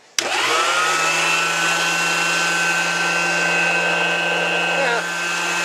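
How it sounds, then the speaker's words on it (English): An electric meat grinder set up for sausage making, its bowl packed in ice, starts with a sharp click and runs as a steady, loud motor whine, shifting slightly near the end as it is reversed. "we got our grinder set up. Now we just got to turn it on, and reverse."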